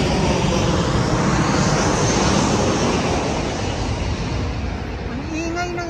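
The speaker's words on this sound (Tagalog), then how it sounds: "ang ingay ng eroplano." A loud fixed-wing airplane roars overhead near Steveston's Fisherman's Wharf, a broad engine rumble that stays strong and then gradually fades, blended with wind and surf-like noise.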